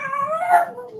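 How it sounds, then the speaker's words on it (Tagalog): A dog lets out a brief, close, mournful howl that wavers and slides downward, ending with a slight whimpering quality. "Yung aking aso ay nag-uungol."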